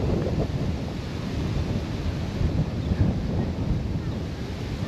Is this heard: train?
no